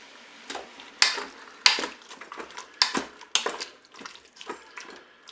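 Red kidney beans and canned peeled tomatoes stirred in a Cookeo pot for a Tex-Mex beef bourguignon: a run of close, sharp utensil knocks and wet scraping clatters against the pot, irregular and brief, with no talking.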